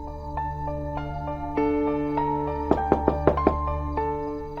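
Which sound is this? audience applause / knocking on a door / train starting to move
knocking on a door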